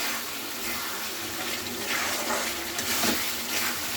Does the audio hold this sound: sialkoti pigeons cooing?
no